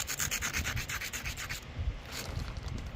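Rapid, rhythmic rasping strokes as the base of a knapped flint Western Stemmed point is ground, with close, steady scraping that slows and roughens toward the end.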